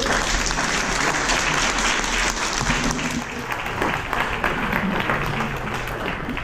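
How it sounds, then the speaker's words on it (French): An audience at a commemorative celebration in Dunkerque claps loudly and continuously, a dense steady applause from a crowd close by, with some voices mixed in. "On peut l'applaudir."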